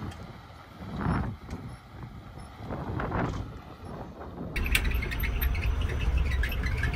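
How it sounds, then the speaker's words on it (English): Tires of an electric Heil garbage truck rolling along the road, a soft steady whooshing rumble heard from inside the cab that swells into a louder, brighter road roar partway through, with no talking. "All you hear are the tires moving."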